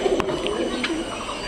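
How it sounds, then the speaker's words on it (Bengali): Pigeons cooing in a loft, a couple of soft low coos close by in a brief burst, with light background rustle. "উপরে এই যে কবুতর আছে"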